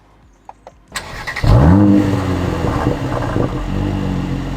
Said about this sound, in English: starting a car up with this thing sounds amazing